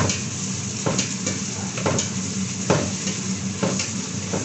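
Ground meat sautés in a pan, sizzling steadily while a utensil stirs and scrapes against the pan in regular strokes, close and moderately loud with no talking.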